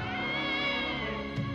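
A cat gives a long drawn-out meow, a sustained tonal wail heard fairly close and alone, ending in a small soft sound.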